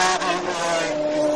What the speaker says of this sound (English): Listen to the engine. He would have been in a lower gear there if he could have got a lower gear.